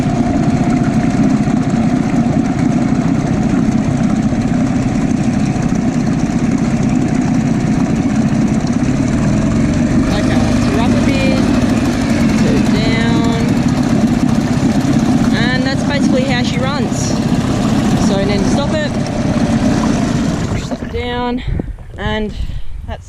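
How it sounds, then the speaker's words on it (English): A boat motor, started with the choke on, idles steadily and throttles up a little, a continuous close engine drone that holds for about twenty seconds and eases off near the end. "Alright, we'll slowly get her up a bit more."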